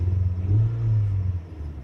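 A 2010 Kia Forte 2.0 engine with a ticking fault idles close by, a steady low hum with a slight swell in the middle, and no distinct ticks stand out.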